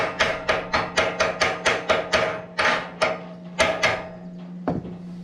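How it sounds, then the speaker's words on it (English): A hammer chips welding slag off a fresh tack weld in rapid, evenly spaced metallic taps. About a dozen strikes come close together, then a few slower blows follow, with a steady hum running underneath. "Get the slag off there."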